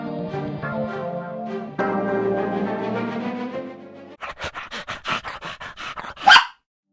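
A Robo Wunderkind robot toy dog plays a panting sound effect, a dog-like rhythm of quick pants and short barks that ends in a louder burst, close and clear with no talking.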